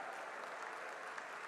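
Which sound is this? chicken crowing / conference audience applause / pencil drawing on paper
conference audience applause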